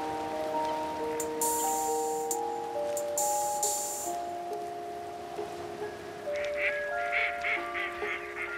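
Ducks quack repeatedly at a moderate distance on open, unfrozen water in a cold winter wetland, their calls overlapping in loose bursts above a soft rain-like hiss, with no talking.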